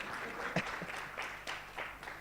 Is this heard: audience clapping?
yes